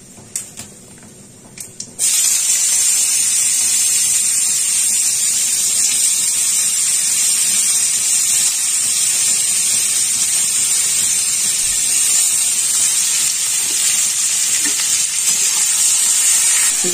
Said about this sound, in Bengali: যেহেতু একদম কম তেল দিয়েছি তাই পেঁয়াজটা ভাজতে একটু দেরি হবে।